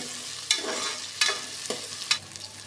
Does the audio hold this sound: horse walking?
no